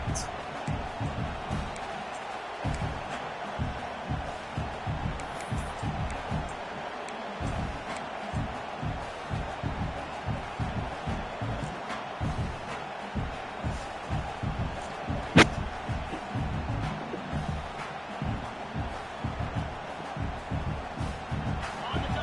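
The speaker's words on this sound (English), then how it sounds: "This crowd bringing serious noise on this huge 4th down play." Steady stadium crowd roar from a college football video game on a 4th down play, a loud continuous wash of cheering with a sharp slam-like hit midway.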